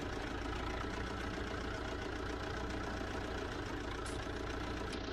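A cold Zetor 6011 tractor engine runs steadily at idle, a continuous close, rough mechanical drone with no voices over it.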